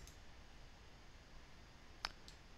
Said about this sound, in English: Okay, we're going to click apply.